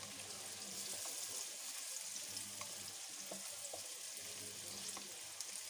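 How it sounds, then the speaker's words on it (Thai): Steady sizzling of carrots stir-frying in a hot pan, with occasional scrapes and stirring clicks, continuous and fairly close, no talking. "ผัดแครอทให้นิ่มก่อนนะคะเพื่อน"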